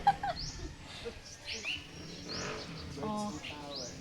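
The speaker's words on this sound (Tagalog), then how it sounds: "Birds. Andoon sila sa taas." Small birds chirp in short, scattered tweets from a tree beside a tower in a garden, fairly faint and slightly distant, with some voices and background noise underneath.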